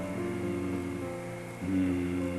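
A human voice hums in imitation of a German bomber's engine: a steady, low, droning tone that holds for about a second and a half, then steps up in pitch and swells slightly louder.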